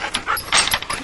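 A dog pants and snuffles close by in quick, breathy bursts with a faint whimpering edge, heard alone for about a second.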